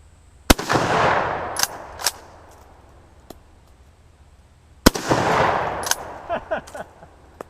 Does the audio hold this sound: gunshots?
yes